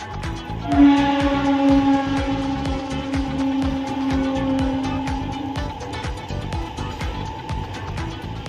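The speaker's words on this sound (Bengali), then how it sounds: "মনে হয় ট্রেন আসছে।" A train approaches in the rain, its horn sounding a sustained, fairly loud tone for several seconds over a steady rumbling, rhythmic clatter that continues to the end.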